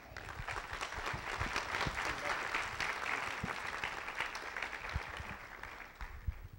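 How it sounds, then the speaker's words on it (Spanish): Audience applause welcoming the afternoon lecturer at a UAEMEX law faculty event, a sustained, evenly dense clapping from a seated crowd, moderately loud and unbroken throughout. "Demos entonces la bienvenida a nuestro conferencista de esta tarde con un fuerte aplauso"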